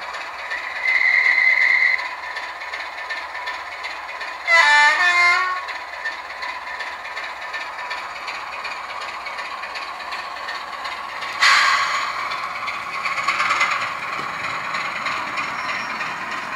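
Model train running slowly on newly powered track in a layout build, a low mechanical whir and rattle with a few louder clattering, ratcheting bursts, close and with no talk.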